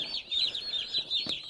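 Mail-order hatchery birds, Cornish cross chicks, Rouen ducklings and Royal Palm and Broad Breasted White turkey poults, keep up a steady, close chorus of shrill peeping, with one brief knock partway through.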